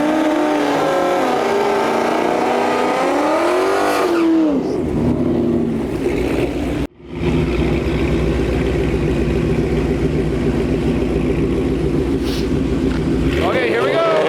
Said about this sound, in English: We got the blown Mustang 5-liter pulling up. Versus a beautiful Cutlass.